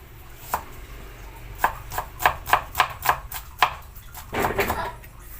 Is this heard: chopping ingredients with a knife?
yes